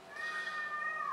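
A female house cat lets out a single sustained meow of about a second at moderate distance indoors, steady and slightly falling at the end, with no talking over it.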